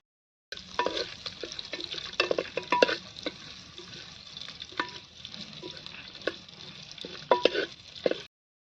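Mustard seeds, onion and curry leaves sizzle and fry in a pan, a steady crackle broken by repeated scraping stirs and spoon taps on the metal, close and fairly quiet.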